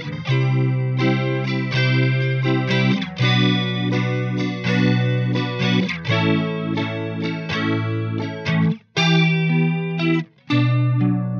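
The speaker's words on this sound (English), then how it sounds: "I'm going to demonstrate how the vibrato effect sounds" An instrument passage run through a vibrato modulation effect, with sustained harmonic notes wavering in pitch and a few brief gaps between phrases; loud and steady, with no talk.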